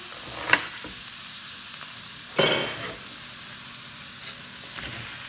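Sliced onions fry over medium heat for curry, giving a steady close sizzle broken by a couple of louder scraping stirs in the pan, with no talking.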